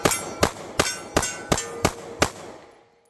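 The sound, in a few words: Ruger Max-9 pistol shots ringing a steel plate target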